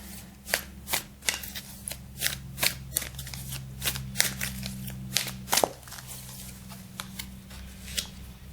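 Tarot cards being shuffled during a card reading, a steady run of crisp riffling flutters and soft slaps, close and moderately quiet with no talking over them.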